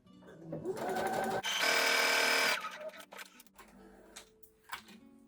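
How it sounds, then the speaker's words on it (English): Sewing machine running a long straight stitch at stitch length 5, sewing a row of gathering stitches down the centre of jersey knit fabric; a loud steady mechanical whir that lasts about a second, then stops, followed by quieter handling clicks. "a straight stitch, stitch length 5, and down the centre I'm going to run a row of gathering stitches"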